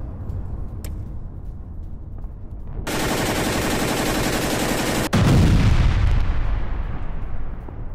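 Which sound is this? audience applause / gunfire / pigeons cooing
gunfire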